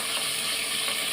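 Small sambar onions, garlic and curry leaves sauté in a hot pan for an onion-garlic kulambu, giving a steady, dense sizzle that holds evenly for about a second.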